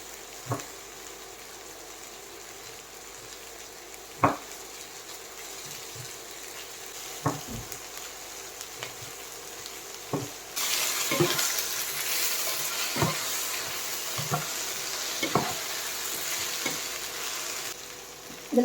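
Cut drumstick vegetable pieces for aviyal cooking in a pan, with a low steady sizzle and a series of sharp spoon clinks and scrapes against the metal every few seconds; the sizzle swells louder midway.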